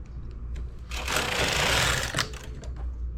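A knitting machine's ribber bed clacks and rasps as a needle is raised, a close, steady mechanical rattle that swells to a loud burst in the middle before easing back.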